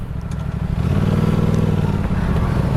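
An Aprilia RS 457 sport motorcycle fitted with an IXIL SX1 aftermarket exhaust drones steadily as it is ridden, close and loud, the engine note swelling slightly under throttle before holding a constant pitch.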